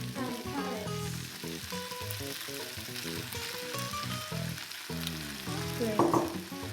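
Beef and carrots hiss and sizzle as they are stir-fried into kimchi fried rice, a steady close frying sound with stirring scrapes, partly under background music.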